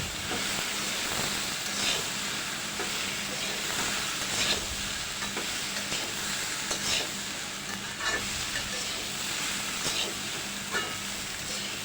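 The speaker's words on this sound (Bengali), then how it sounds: "মশলাটা ভালো করে মিশিয়ে নিয়েছি।" Ground chili, coriander and cumin fry with chickpeas in a pan for chola bhuna. A continuous close sizzle and hiss plays while a spoon stirs and scrapes the pan in steady, repeated strokes, and nobody speaks.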